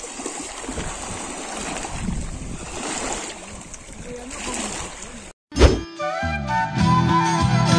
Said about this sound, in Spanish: Miren nomás esas olas.